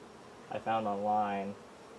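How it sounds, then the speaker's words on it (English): Honeybees around an opened backyard hive with cross-built comb make one close buzzing pass, lasting about a second and rising then fading over a quiet background. "A couple bees in this comb, cross combing."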